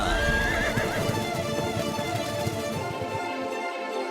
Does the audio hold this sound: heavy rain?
no